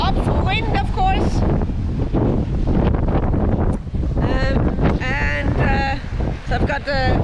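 Strong wind roars across a sailboat beating upwind along the Brazilian coast from Salvador to Recife, a loud continuous rush of air heard under a voice talking throughout.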